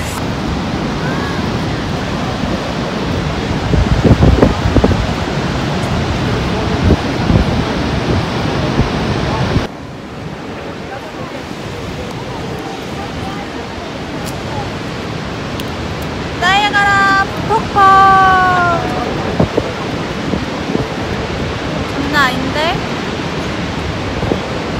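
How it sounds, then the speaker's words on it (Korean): Heavy spray from Niagara Falls falls as a constant roaring wash of water, with wind buffeting the microphone and voices talking briefly partway through. "여러분 지금 폭포비를 맞고 있어요"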